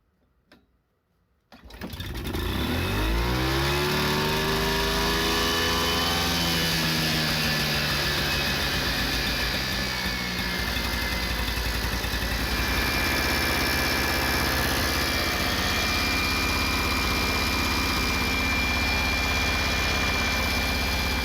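A small engine fitted with a replacement carburetor from a generator spare box starts after a brief quiet moment, then runs loud and steady with a buzzing, slightly rising drone that settles into a constant fast idle.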